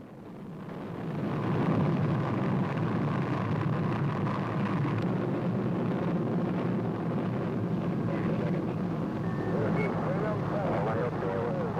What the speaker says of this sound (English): Liftoff at 9:34 a.m.